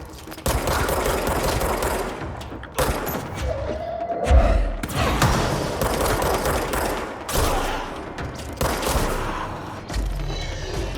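Hip-fired gunfire in the video game Control comes in loud, dense bursts of rapid shots with heavy thuds, pausing briefly before resuming close up.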